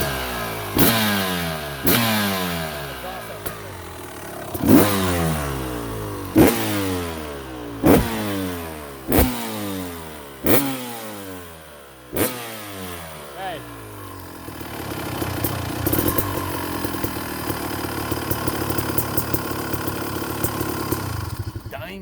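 A 1999 Honda CR250R two-stroke motorcycle engine blips through about nine sharp, evenly spaced revs with falling pitch between them, then settles into a loud, rough, steady run toward the end.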